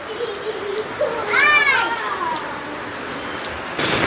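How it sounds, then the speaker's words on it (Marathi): Heavy rain falls outdoors in a constant hiss in a rural village while people shout and talk over it, with a brief clatter near the end. "एवढा पाऊस किती जोरात आलाय"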